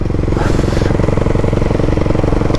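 A large single-cylinder motorcycle engine while riding, a loud, close, steady thumping pulse with rapid regular firing beats and some mechanical clatter, no talking.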